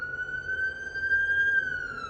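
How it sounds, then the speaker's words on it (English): An ambulance siren wails steadily as it passes right outside an open window, loud and near, with a sustained rising and falling tone over low traffic rumble. "Just had an ambulance pass right in front of me, and I have the window open."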